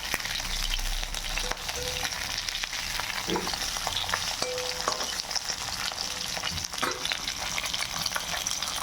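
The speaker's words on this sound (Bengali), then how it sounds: "দেখতেই পাচ্ছেন বন্ধুরা মাছটা এই যে ভাজা হয়ে গেছে লাল লাল করে" Pomfret fish, salted and lightly coated with turmeric, frying in oil in a wok, giving a dense, steady sizzle with crackles and occasional utensil knocks, close and unbroken, with no voices.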